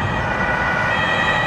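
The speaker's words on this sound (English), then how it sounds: "It's not the police, it's the ambulance, by the way, you're hearing." An ambulance siren heard from inside a Volkswagen Beetle Dune convertible driving on the road, a steady, loud tone over road and traffic noise, with no break across the short stretch.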